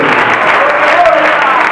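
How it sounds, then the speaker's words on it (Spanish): A church congregation claps loudly in a sustained wash of applause during a Spanish-language sermon, with a voice calling out over it. "¡Aplauden fuerte a Dios,"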